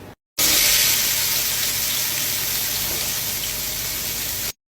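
Onion and garlic sizzling hard in a pot, the base for a veal bone soup; a loud, even frying hiss starts abruptly after a short pause and holds steady until it cuts off, with no voices.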